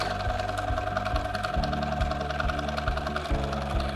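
A sewing machine quilting a ribbon candy motif runs in a steady, fast mechanical chatter with a regular needle rhythm, close and continuous with no voices.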